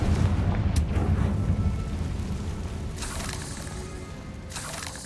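A Confringo explosive spell goes off in the Hogwarts Legacy video game, a deep rumbling boom that fades slowly, with sharper bursts of blast noise flaring later.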